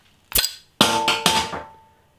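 A metal cap is cracked off a bottle of Wild Beer Sourdough Sour Ale, giving a sharp click, then a clanking metallic rattle and clatter that rings briefly and fades, close and alone.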